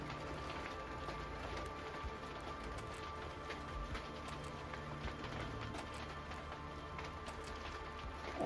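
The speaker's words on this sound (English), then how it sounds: "The thunderstorm was accompanied by heavy rain and hail." Heavy rain and hail during a thunderstorm in Texas, a dense, steady patter of drops and hailstones striking surfaces nearby, continuous and even, with no voices.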